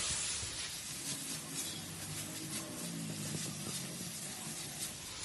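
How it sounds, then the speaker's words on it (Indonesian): Beef skin (amplak) sautés in a pan over fried aromatics with a soft, steady hiss and sizzle, fairly faint and even throughout. "amplaknya kita bisa masukin ya. Kita tumis sebentar biar dia nggak bau amis"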